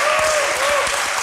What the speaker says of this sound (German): Jetzt bitte einen Applaus für die sechste Präsentation